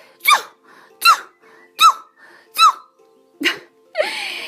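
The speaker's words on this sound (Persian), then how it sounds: "کم کم عطسه و سرفهش با هم قاطی شد" A run of cartoonish sneezes, four squeaky high bursts in a steady rhythm, then a lower cough and a final wheezy sneeze trailing off.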